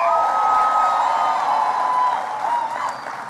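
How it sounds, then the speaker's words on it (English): Crowd cheering and whooping at a National Action Network convention, a steady loud wash of voices and applause that holds throughout and tapers slightly toward the end. "Give him a big round of applause."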